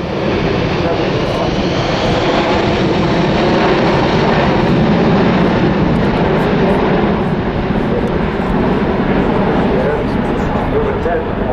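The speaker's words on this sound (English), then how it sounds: "Now, how about that to slow fly by?" Airbus A380 making a slow, low fly-by at Farnborough Air Show 2010, a loud continuous roar of jet engines holding steady throughout the pass, with a voice heard over it.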